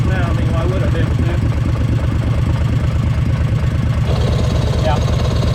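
Kawasaki Mule utility vehicle engine with a blown head gasket idling nearby, a steady loud chugging rhythm throughout with faint clatter layered on top.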